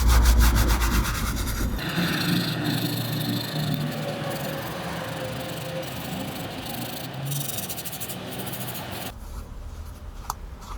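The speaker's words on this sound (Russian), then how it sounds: "Также очищаем кожаный чехол при помощи хозяйственного мыла." A leather cover on a BMW automatic gear selector knob is scrubbed with household laundry soap, giving a steady, close rasping rub for about nine seconds before it stops abruptly, with no talking.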